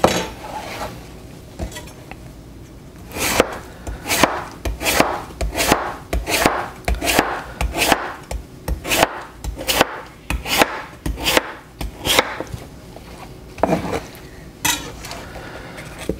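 A knife slicing through a watermelon half on a cutting board, a series of crisp, evenly spaced chopping thuds, close and fairly loud, continuing steadily with short pauses and no voices.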